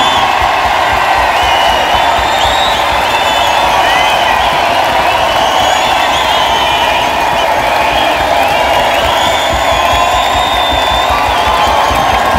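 An audience at a Northern Soul dance final in Blackpool cheers loudly and steadily, with whoops, whistles and scattered clapping woven through the sustained roar.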